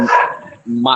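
A dog barks close to a student's microphone during an online class, sharp yelps at the start and end with a brief lull between, overlapping with voices talking.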